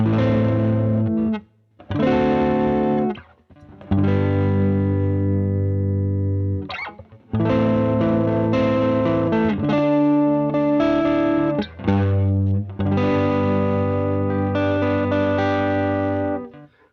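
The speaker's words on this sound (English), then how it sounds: "is the sound of my guitar with the tone switch closer to the bass side" Distorted electric guitar chords with the tone switch set toward the bass side, a dark, bass-heavy tone and chorus-like effects, played in sustained bursts with brief pauses between phrases.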